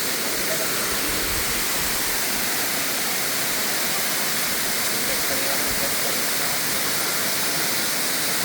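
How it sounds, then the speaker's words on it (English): A waterfall in the dense forest of El Tigre, Monteverde, pours as a loud, steady, unbroken hiss of falling water filling the whole clip. "Okay, the waterfall,"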